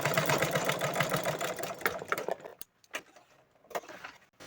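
A sewing machine stitching the layers of a cloth bag with lining whirs rapidly and continuously up close, then drops to sparse, scattered clicks and taps.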